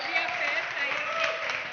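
Applause in a church service, a short steady patter of many hands clapping in a room with a voice speaking over it.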